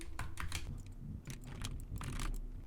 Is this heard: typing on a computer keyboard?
yes